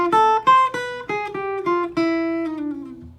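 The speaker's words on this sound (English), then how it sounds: "you're sliding down at the end of every phrase" Jazz guitar phrase of plucked notes, each ringing clearly, ending with a long downward slide that fades out, played alone and up close.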